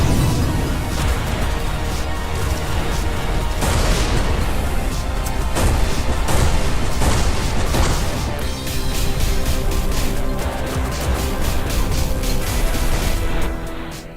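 Fuel tanks blow up in a space combat game, a dense, loud run of booming blasts and crashes layered over constant heavy rumble for the whole stretch.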